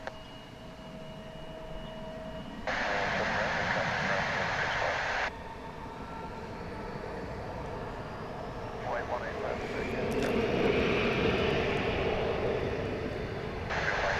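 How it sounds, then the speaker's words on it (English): An American Airbus A319 airliner arriving at DFW International Airport roars and whines steadily in the distance, swelling gradually toward the end, with faint outdoor background noise. "we're going to watch American Flight 1017, an Airbus A319 coming in from Silao in Mexico."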